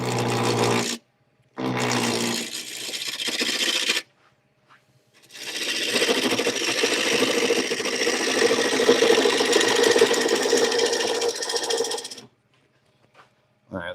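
A wooden bowl turns on an underpowered midi lathe as a gouge cuts it, making a sustained loud rasping scrape in long bursts separated by short silences, close by.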